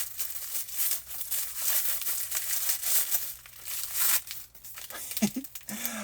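Gift packaging being cut open and the contents slid out, a steady run of close crinkling and tearing with scraping, speech faint underneath and a short voiced sound near the end.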